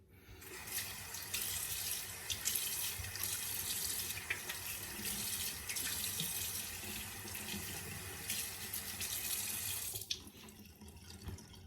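A tap runs steadily into a sink while a safety razor is rinsed, a continuous close splashing stream that cuts off near the end.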